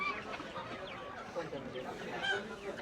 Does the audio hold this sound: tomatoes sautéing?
no